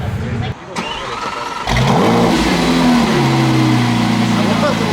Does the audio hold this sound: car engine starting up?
yes